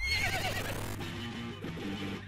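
A horse in the video game Super Lesbian Horse RPG gives a shrill, descending whinny over game music, then the music carries on alone at a steady level.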